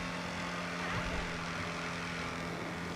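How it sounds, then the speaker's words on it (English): A Jaguar XE SV Project 8 (Ocelot Jugular) engine echoes through a tunnel in GTA Online, a steady droning hum at moderate level with a constant low tone, no talk. "Just listen to that engine through the tunnel"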